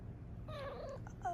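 A cat gives a short meow up close and then a brief second one, faint against a quiet room hum, with no talking.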